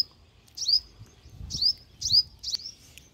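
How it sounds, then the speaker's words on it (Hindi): A small bird perched on a grape vine in a garden plot chirps in short, bright, repeated calls about half a second apart, close by and clear over faint background noise. "अरे देखो भाई अंगूर की बेल पर कितनी सुंदर चिड़िया आ रही है"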